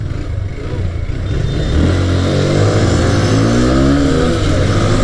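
A TVS Apache RTR 160 4V and a Honda Hornet 160 roaring in a loud outdoor drag race, engines revving and pulling hard through first gear, dense and continuous close to the listener.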